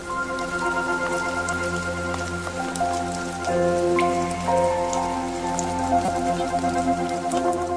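Steady rain patters densely on surfaces, a continuous shower heard close up beneath soft, sustained musical tones.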